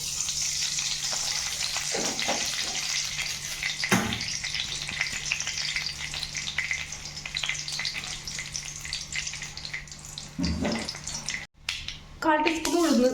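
Mustard seeds splutter and pop in hot coconut oil in a pan, giving a steady close sizzle with scattered crackles and occasional stirring knocks, while a voice speaks over it at times.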